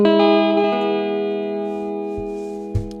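Guitar chord ringing out and slowly decaying, with a couple of deep foot-played thumps on a beat seat near the end, close and clear with no voices.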